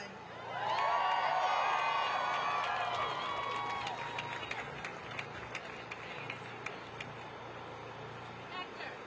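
A large protest crowd cheers and whoops, swelling suddenly into loud, sustained roaring that slowly fades, with a few sharp claps and shouts scattered through the tail.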